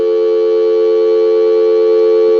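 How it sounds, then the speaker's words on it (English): A steady, loud telephone dial tone from a lineman's butt set hums continuously with no breaks, no voices over it. "now we'll go ahead and give some dial tone"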